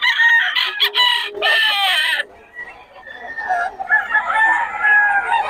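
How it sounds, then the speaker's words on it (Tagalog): Roosters and chickens crowing loudly and close, several overlapping drawn-out crows with clucking between them, at a gamefowl sale in Bocaue. "Mga manok ni Boss Eric"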